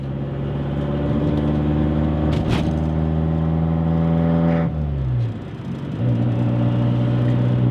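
A Mini car's turbocharged engine pulls hard from inside the cabin, with a sustained whining drone that shifts pitch and then drops before rising again.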